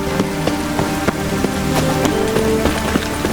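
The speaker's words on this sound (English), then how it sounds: "Rain again." Steady rain in the video game The Witcher 3: Wild Hunt patters on a surface, with scattered sharper drops and soft irregular knocks over a dense wash of hiss.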